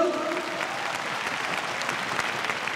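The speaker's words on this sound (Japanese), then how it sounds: "大きな拍手をお送りください。" An arena crowd at a RISE World Series kickboxing event in Osaka applauds as the foreign fighter Petchpanomrung makes his entrance. The clapping is dense, steady and even for the whole stretch, with no voices over it.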